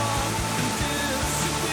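Colombian waterfall roaring as a steady, dense broadband wash of falling water, loud and close, with a few low thumps underneath and no talk.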